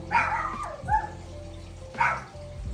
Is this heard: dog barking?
yes